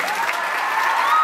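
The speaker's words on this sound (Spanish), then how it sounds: "Más fuertes aplausos, por favor." Audience applause at a 2023 folk cultural performance, a brief, steady wash of clapping from a large crowd, fairly loud throughout.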